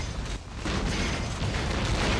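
A mech blows up in a video-game arena battle: a dense, sustained roar of explosion and debris that swells after a brief dip and stays loud throughout.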